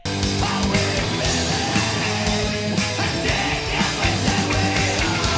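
Loud, dense early screamo band music with distorted guitars, drums and strained yelled vocals, playing continuously at full level.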